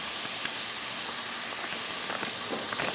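Steaks sear on a hot grill, giving a steady broad sizzling hiss with faint crackles and pops throughout, close and moderately loud.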